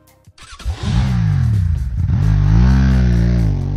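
A motorcycle engine in the Hotline Miami video game revs up loudly and steadily, its pitch climbing and wavering over a few seconds, with no talk over it.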